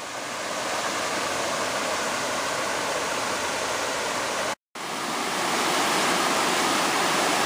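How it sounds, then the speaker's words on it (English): Steady, loud rushing of a river pouring over solid rock along Panther Creek Trail, a dense continuous roar of water heard close by with a brief dropout near the end. "the river is beautiful here as it cuts through this rock"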